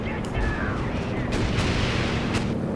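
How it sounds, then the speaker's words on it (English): Strafing-run rocket strike in Company of Heroes 2 during a Tiger tank versus Shermans battle, heard as a steady rumble of distant explosions and fire, with a player talking over it. "That was a nice strafing run. A rocket strike."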